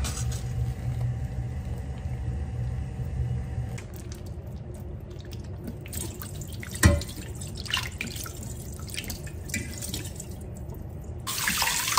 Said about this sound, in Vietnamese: mình xả cái nước này ra, mình rửa cho thiệt là sạch đi